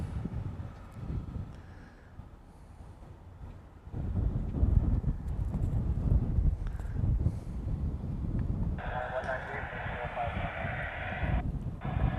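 Aircraft taxi at Honolulu airport, a broad steady engine rumble heard at a distance with wind buffeting the microphone and a higher whine joining in later.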